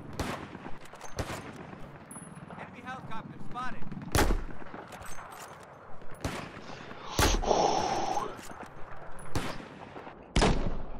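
Gunfire in the video game Battlefield 4, loud sharp shots and bursts scattered irregularly across the clip, some heavy and booming, mixed with gasps and breathy player noises.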